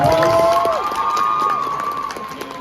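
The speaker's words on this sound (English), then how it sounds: "So can we get a round of applause for the cast of Dandadan?" Anime convention panel audience in a theater, heard as a loud, sustained burst of cheering and applause with high whoops and shouts fading slightly over a few seconds.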